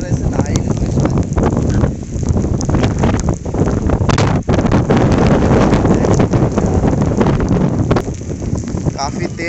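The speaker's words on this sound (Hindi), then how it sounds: "काफ़ी तेज़ हवा चल रही है" Strong wind during heavy rain in Bharatpur, India, roaring loudly and continuously against the microphone with constant rushing noise and rain hiss throughout.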